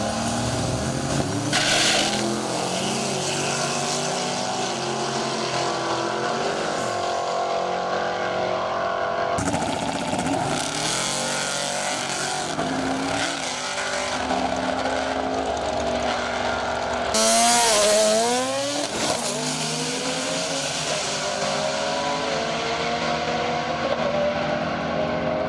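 Drag race cars lined up at Bradenton Motorsports Park after Sick Week, engines rumbling and revving near and loud, with sharp throttle blips and rising roars as cars move up for their passes.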